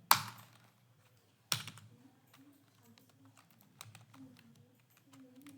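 Quiet, sparse keystrokes on a computer keyboard, with two sharper clicks at the start and soft scattered taps afterward over a faint background hum.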